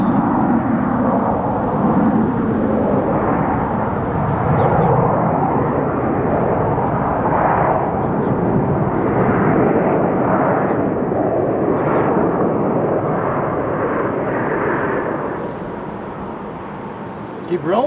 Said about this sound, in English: thank you, Southwest 737, going to Las Vegas